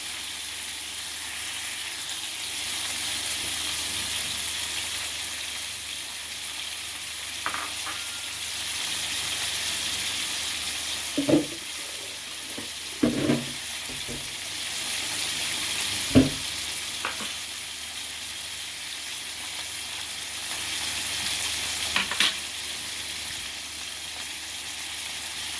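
Fish pieces sizzle steadily in a hot pan for fish soup, a continuous close frying hiss with a few soft clicks and knocks of stirring or turning.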